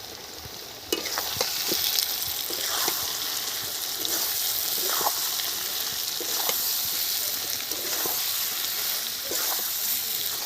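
Half-fried potatoes sizzle steadily in hot oil in a village-style kitchen, with turmeric, salt, chilli powder and garlic paste stirred in, giving a loud continuous frying hiss broken by regular scraping stirs.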